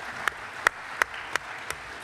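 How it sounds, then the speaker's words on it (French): Audience applause at a round-table conference in Lyon: sparse, evenly spaced claps, moderately close, over a low background hum. "on peut vous applaudir"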